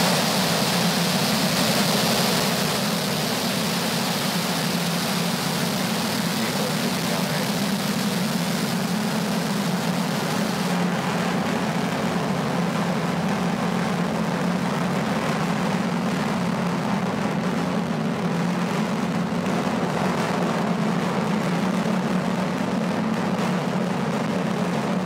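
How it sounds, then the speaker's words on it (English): A SpaceX Falcon 9 rocket ignites and lifts off carrying Starlink satellites, heard as a loud, steady broadband roar with a deep low rumble that continues without a break for the whole stretch, with no talking. "Ignition, liftoff of Falcon 9 and Starlink Ocho."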